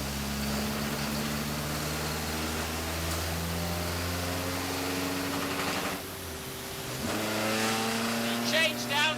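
A vintage Datsun BRE 510 race car with a 5-speed manual gearbox and 240Z diff drones at steady high revs from inside, then the engine note drops sharply as it shifts down and revs climb again, loud and close.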